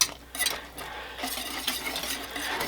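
A spoon stirs Gruyere and white cheddar cheese into a creamy pasta sauce in a pot, producing soft, continuous scraping and swishing with a few light clinks.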